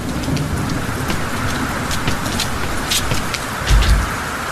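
Heavy rain pours steadily, a dense close wash of drops with sharp splatters on surfaces and a brief low rumble near the end, with no voices.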